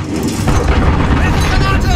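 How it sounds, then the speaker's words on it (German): Cruise missile strike exploding in a shooter video game, a loud, dense rumbling boom that rolls on continuously for a couple of seconds, with a voice faintly beneath. "Der Marschflugkörper gestartet."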